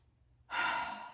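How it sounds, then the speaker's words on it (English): After a moment of quiet, a single deep, breathy exhale sounds close by and lasts to the end, soft and airy, with no talk. "close your eyes, take a few deep breaths"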